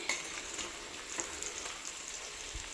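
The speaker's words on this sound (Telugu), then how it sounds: "ఆయిల్ మొత్తం పైకి వచ్చే వరకు సన్నని సిమ్మి మీద మనం వేపుకోవాలి" Stuffed eggplants frying in oil over a low flame, a soft continuous sizzle with faint scattered pops and crackles, quiet and steady throughout.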